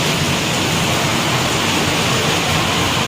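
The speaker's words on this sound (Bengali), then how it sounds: "বাপরে বাপ কি বৃষ্টি হচ্ছে" Heavy monsoon rain pours outside a home in Bengal, a steady, loud, broadband roar of water that runs unbroken until it cuts off abruptly at the end.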